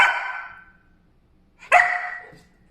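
A puppy named Dexter barks twice, two sharp, loud yaps about a second and a half apart, each with a short ringing tail, with no voices.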